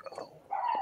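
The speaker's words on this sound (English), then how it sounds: "Dumb dogs. You guys ever shut up?" Dogs barking, a few short yelps and a drawn-out whine-like bark, fairly faint and close together, with no talk.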